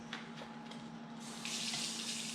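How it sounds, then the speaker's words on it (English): Water runs from a kitchen faucet, a soft steady hiss over a low electrical hum that swells into a louder, fuller gush as the flow increases. "can you get it from the faucet?"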